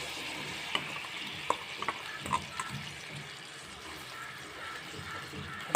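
Soaked semolina being stirred into melted ghee for halwa, a soft continuous scraping and gentle sizzle with scattered light spoon clicks against the pan, close and fairly quiet with no talk.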